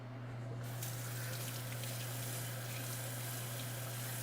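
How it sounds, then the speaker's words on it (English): Tap water runs steadily from a faucet, rinsing pumice off a Hawley orthodontic retainer at a sink; a continuous close splashing stream starts just after the first half second with a low hum beneath it. "so I'm just going to rinse it."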